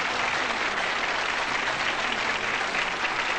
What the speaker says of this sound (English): Would you give her a big round of applause?